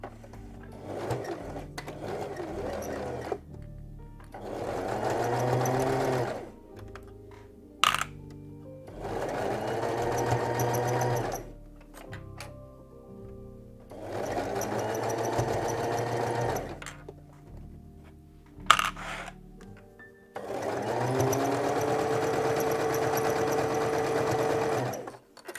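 Domestic sewing machine stitching a zigzag seam on pyjama fabric, running in four or five bursts of several seconds each with brief pauses and small clicks between, fairly close and with no talk.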